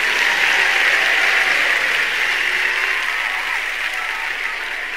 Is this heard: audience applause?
yes